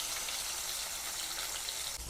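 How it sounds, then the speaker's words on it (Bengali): Rohu fish fry in hot mustard oil in a kadai, a continuous bright hissing sizzle that holds at an even level throughout, close by and without speech. "তেল গরম হয়ে গেছে। এবার মাছগুলো আমি ভেজে নেব।"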